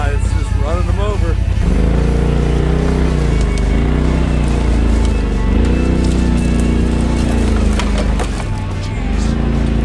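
A Polaris RZR off-road vehicle churns through snow and flattens small trees, its engine roaring loud and close with revs rising and falling while wood cracks and splinters beneath it, all continuous without pause.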